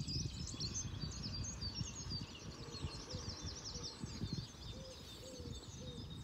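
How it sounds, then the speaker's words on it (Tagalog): Birds call and coo faintly in a quiet park in the early morning, with chirps and soft cooing notes scattered over a low background rumble, with no one talking. "Kasi ang sarap pakinggan eh dito, naririnig mo yung mga ibon."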